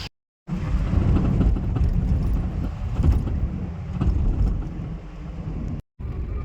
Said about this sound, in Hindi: हम लोग गाड़ी में बैठ गए हैं, अब निकल रहे हैं नानी के घर।